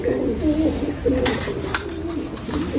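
Pigeons coo repeatedly in low, throaty rolling calls, close by, over a steady background hiss with a few faint clicks.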